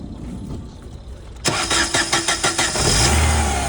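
A used car's engine cranks and catches with a sharp start, settles into a few rhythmic revving pulses, then runs at a steady idle, loud and close with no talking.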